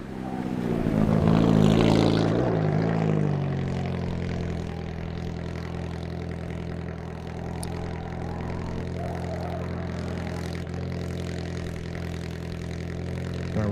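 A Volkswagen-engined four-cylinder drift car roars at high revs, then settles into a steady, sustained engine drone, loud and continuous throughout.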